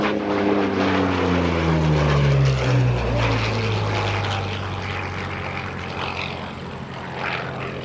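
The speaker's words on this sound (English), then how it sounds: "here comes the iconic Curtiss P-40 Warhawk" A Curtiss P-40 Warhawk propeller fighter passes at an airshow, its loud piston engine drone sweeping down in pitch as it flies by and fades slightly into the distance.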